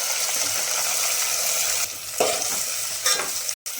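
Spring onion and fenugreek greens sizzle as they are sautéed with browned garlic in a hot pan, a close, steady frying hiss broken by stirring scrapes and a brief clatter near the end, without talking.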